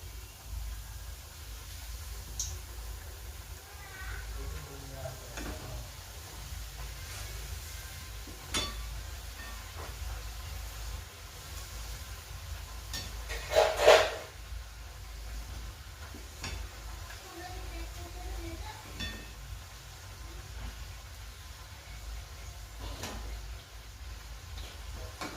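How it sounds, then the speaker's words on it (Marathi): Puris deep-frying in hot oil, a faint steady low sizzle throughout, broken by a few soft clicks and one brief louder scrape near the middle. "बघा सगळ्या पुऱ्या फुगतायत एकदम छान"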